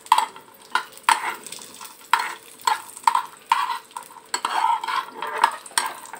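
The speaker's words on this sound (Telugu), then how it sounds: "అదే కడాయిలో మనం సేమియాలను కూడా ఫ్రై చేసుకోవాలి." Semiya vermicelli frying in a kadai, heard as a steady sizzle broken by repeated rhythmic scrapes and stirs of a spoon against the metal pan, close and fairly loud.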